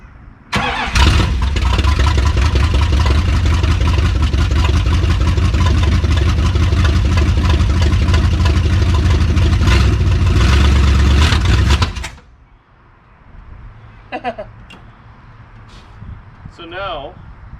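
Old MOPAR car engine with power run to the coil and gas poured into the carburetor cranks and catches, then roars loudly at a rough, rumbling idle for about eleven seconds before cutting off, leaving quiet background and faint speech.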